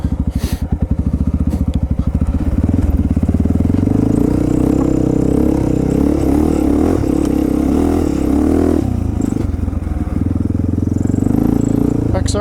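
An XR dirt bike engine runs and revs on a snowy jump track in January, a loud steady putter rising and falling in pitch near the recorder.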